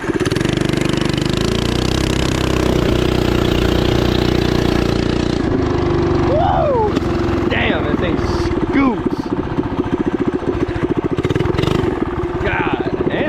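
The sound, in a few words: 212cc engine Coleman minibike accelerating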